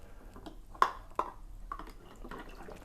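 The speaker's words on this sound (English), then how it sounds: "As water is taken out, it continues to fill from the water bottle." Quiet water sounds from a self-filling water bowl refilling from a water bottle, with a couple of distinct drips or plinks and soft trickling, close by, with no one talking.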